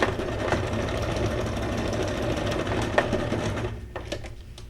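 A sewing machine runs steadily while stitching a straight line across layered paper ephemera for a junk journal, its fast mechanical chatter continuous and close, easing off near the end.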